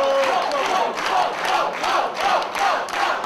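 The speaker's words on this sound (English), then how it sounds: "As the capacity crowd are getting behind the Teen Titan, the plucky youngster, Paul Robinson." A capacity crowd at a singles wrestling match chants and cheers for a young wrestler. The roar is loud and continuous, rising in rhythmic waves like a chant, and a commentator's voice may be faintly mixed in.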